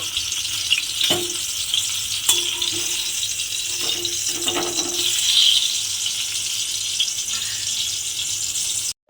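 Pumpkin pieces fry in hot oil in a pan, giving a steady, close sizzle with a few sharp clinks of a utensil scattered through it and no talk.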